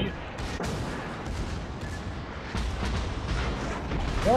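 Warship naval guns boom repeatedly in World of Warships, shells and impacts rolling out as a dense, continuous barrage of loud thuds.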